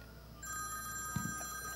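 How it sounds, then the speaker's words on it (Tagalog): A telephone starts ringing with a bright, sustained electronic tone that holds steady, accompanied by a brief thump and soft background noise. "Kaninong telepono yung nag-ring?"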